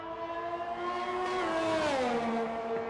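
Ferrari Formula 1 car engine in F1 2021 racing at the Mexico circuit, a loud sustained high-pitched whine that rises then dips through a gear change, steady and close.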